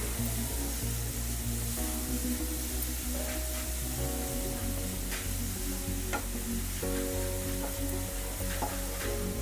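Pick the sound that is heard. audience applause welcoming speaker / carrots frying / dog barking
carrots frying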